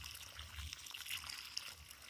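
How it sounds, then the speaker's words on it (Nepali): Muddy water is poured gently onto the roots of a plant, a faint close trickle and dribble with a few small splashes, heard alone and quietly. "पानी लाउँदा यसरी लाउनुपर्छ,"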